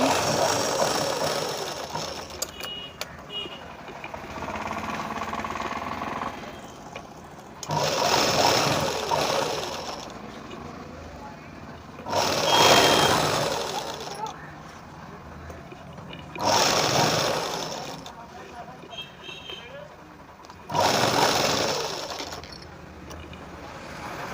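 A sewing machine stitches the sleeves of a Punjabi dress with lining in loud bursts of rapid running that keep stopping and starting, separated by quieter handling of the fabric.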